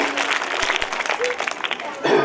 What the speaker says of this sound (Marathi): सगळ्यांनी एकदा जोरदार टाळ्या वाजवाव्या